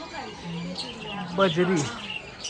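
A budgerigar in a zoo aviary at Sarnath, Varanasi, gives a few brief chirps and warbling calls, faint and somewhat distant, with a low background hum.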